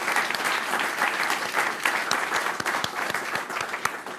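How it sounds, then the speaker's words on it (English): Scholarship award recipients at a village board meeting receive a warm round of applause from the room, a moderate, continuous patter of many hands with a few crisp claps standing out. "let's just give a round of applause to all our recipients"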